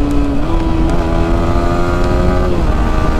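A motorcycle engine runs loud and close as the rider works the clutch and changes gear, holding a steady droning rev with a slight pitch shift partway through.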